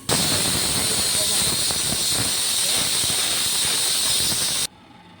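A pressure cooker cooking masale bhat lets off a loud, steady steam whistle-hiss that holds for about four and a half seconds and then cuts off abruptly.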